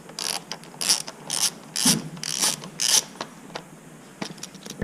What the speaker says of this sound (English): to get the sensor out, you just loosen these two bolts. They're 7mm.